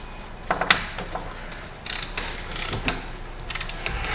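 A wrench ratchets as wheel bearing bolts on a Dodge Avenger are tightened, producing quiet clicking ratchet bursts and mechanical creaks at close range over a low background hum.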